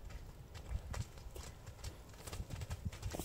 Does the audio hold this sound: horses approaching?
yes